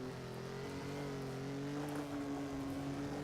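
Race car engine held under steady throttle in the Assetto Corsa racing game, a continuous droning hum at near-constant pitch, loud and close, with no speech over it.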